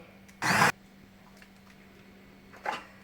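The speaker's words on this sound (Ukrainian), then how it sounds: "зараз я переблендерую погружним блендером" Two short, loud bursts of an immersion blender whirring as it purees cooked tomatoes, the first slightly longer, separated by a couple of seconds of quiet.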